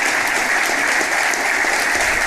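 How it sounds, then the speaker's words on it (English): Steady, dense applause from a football crowd at Barnet FC's ground, a minute's tribute for late club legend Roger Figg, continuous and even throughout with no voices standing out. "we are going to have a minute's applause for Barnet legend Roger Figg"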